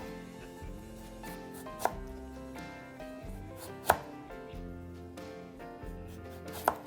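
A knife slices carrots into thin rounds on a cutting board, giving quick, even, rhythmic chops with a few sharper knocks, close but fairly quiet under music.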